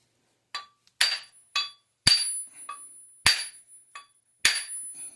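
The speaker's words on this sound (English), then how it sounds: "Brass hammer, you're going to want one." A brass hammer strikes a Polaris Indy 500 snowmobile crankshaft, giving about six sharp, ringing metallic blows at close range with softer taps in between.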